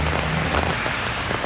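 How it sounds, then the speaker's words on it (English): Rain falls steadily outdoors after a torrential downpour, a soft broadband hiss with faint patter, even and moderately loud with no voices. "the rain's definitely slowed down"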